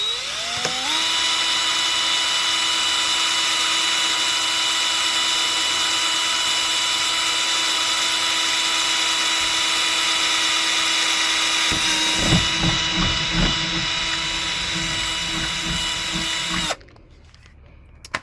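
A power drill whines steadily at high speed as it bores a hole in a Dodge Challenger's front end, the pitch holding level before stuttering through the material in the final seconds and stopping.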